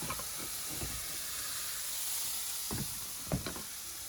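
Spinach stems hit a hot pan, giving a steady broad sizzling hiss with a few soft clatters and knocks on top.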